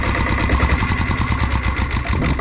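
A 7.5 HP vehicle engine in average condition idles close up, giving a steady, loud, rhythmic chugging throb with even pulses that run through the whole short stretch and no talk over it.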